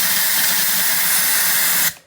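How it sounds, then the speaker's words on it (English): An air hose blasts into a Craftsman lawnmower gas tank with a shop rag stuffed inside, making a loud, steady, close hiss that cuts off abruptly near the end. "Now you want to grab yourself an air hose and blow some air in there."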